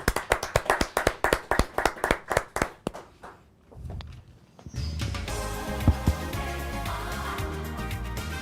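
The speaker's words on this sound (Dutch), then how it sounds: "Mag ik een groot applaus, dames en heren" A crowd at a King's Day celebration in Venray claps in unison for the singer, sharp rhythmic beats at first, a brief lull, then music starting up loudly.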